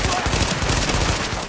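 Rapid gunfire in The Division video game, a loud, dense burst of automatic shots rattling continuously from start to finish.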